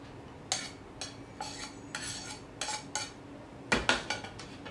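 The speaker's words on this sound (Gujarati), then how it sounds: "હવે આપણે જે આ કેરીના ટુકડા કરી લીધા છે એ સૌથી પહેલાં લઈશું આપણે મિક્સી જારમાં" Mango pieces drop into a mixer jar in a kitchen, making a series of light clinks and knocks against the jar, spaced irregularly and fairly close.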